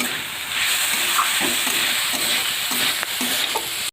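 Chopped green chillies added to cabbage, potato and carrot frying in oil, with a continuous close sizzle and rhythmic stirring scrapes of a spatula in the pan.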